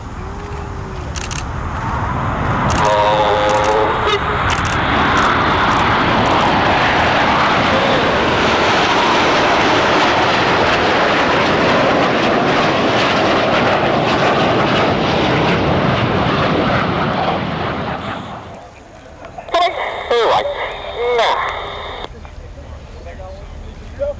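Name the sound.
RAF Red Arrows jets flying formation display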